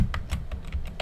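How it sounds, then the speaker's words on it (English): Someone types on a computer keyboard while entering form data, producing quick, irregular clicky keystrokes at close range with no speech. "And I'm typing in first name, last name."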